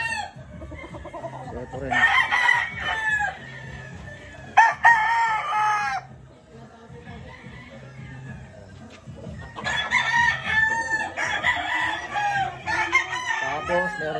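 Fighting roosters, some of Boston lineage, crow loudly in bursts and cluck between calls, with someone speaking briefly over the flock.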